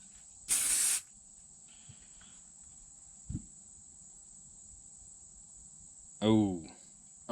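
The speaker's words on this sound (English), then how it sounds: "I don't know if you saw that gas off or not" Stick Fast activator is sprayed onto epoxy in a single sharp, loud hiss lasting about half a second, followed by quiet with a faint background whine and a brief knock. A voice comes in near the end.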